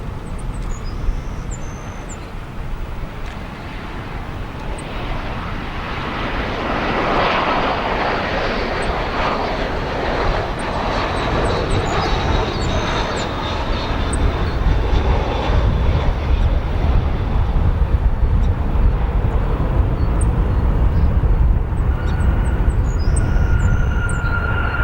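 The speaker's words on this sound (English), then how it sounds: "Decently smooth landing there for that A320." A twelve-year-old Spirit Airlines Airbus A320-200 lands at a busy airport, a broad airliner roar swelling and holding steady at moderate distance for about twenty-five seconds, with faint high chirps above it.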